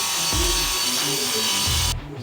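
Power tool sawing through wood at a carpentry shop, a loud, steady whine that runs the whole time before easing off at the end.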